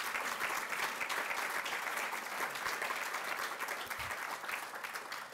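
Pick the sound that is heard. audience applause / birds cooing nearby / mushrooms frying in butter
audience applause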